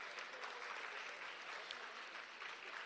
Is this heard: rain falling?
no